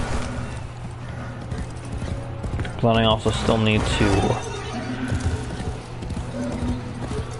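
Video game horse hooves clip-clopping in a quick, steady trot, with a brief whinny-like burst midway, under someone talking throughout.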